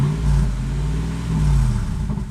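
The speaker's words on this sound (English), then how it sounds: "There's like backfires." A Lexus GX470 SUV engine with an open exhaust cutout rumbles deep and loud nearby, its exhaust note rising and falling slightly as it idles and revs, with burbles and backfires.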